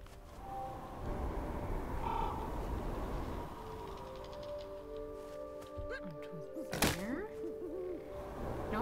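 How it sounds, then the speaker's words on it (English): An owl hoots in the Never Alone (Kisima Ingitchuna) video game, its tonal calls sitting amid a steady bed of ambient game sound and wind-like noise, with a sharper swooping sound near the end. "Hear the owl again."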